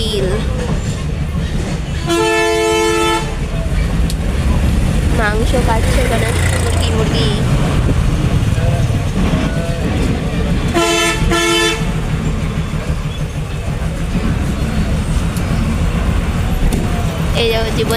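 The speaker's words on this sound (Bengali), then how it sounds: "খুব ভিড় রাস্তায়, এত জ্যাম, রাস্তায় যাওয়া মুশকিল।" Horns blare in short tonal bursts over a dense, continuous roar of traffic on a crowded, jammed road, with people talking nearby throughout.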